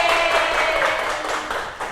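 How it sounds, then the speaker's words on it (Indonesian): Applause in a classroom during a microteaching lesson, a steady wash of many hands clapping together for about two seconds, fairly close and loud, with a faint voice at the start and fading slightly toward the end. "Beri tepuk tangan untuk kita semua."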